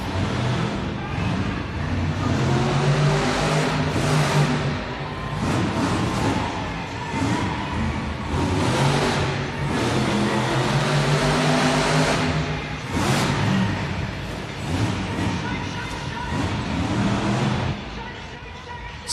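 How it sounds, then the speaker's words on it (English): The Earthshaker monster truck's engine revs inside an arena during a Monster Jam event, deep surging growls rising and falling repeatedly under a loud announcer and crowd noise. "Sounds like the engine's revving."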